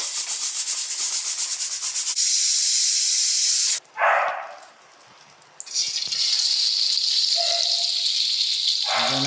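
A pressure cooker with chicken feet inside hisses loudly with sputtering steam and rattling, a brief lull mid-way before the strong steady hiss resumes, with no talk.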